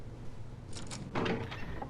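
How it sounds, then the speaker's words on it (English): A wardrobe door in a video game gives a soft click and then a short creak, faint and close, over quiet background hum, with no talk. "Click and a creak."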